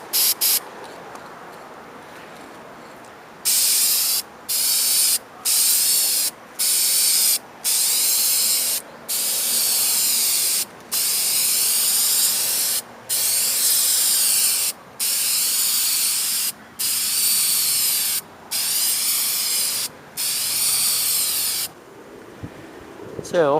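An aerosol spray can repaints a Jeep front bumper outdoors in hot weather, giving about a dozen loud hissing bursts of one to two seconds each, separated by short pauses, with no talking.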